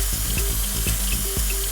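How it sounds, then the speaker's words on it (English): Fluid conditioner pours from a funnel-shaped bottle into the new-fluid tank of a transmission flush machine, a steady close trickling and gurgling of liquid with faint clunks, no talking. "You can also add fluid conditioner inside the new fluid tank too."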